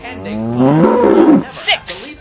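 A single loud, close cow moo rising and falling over about a second and a half, played as a sound check in the You Don't Know Jack video game, followed by brief faint noises.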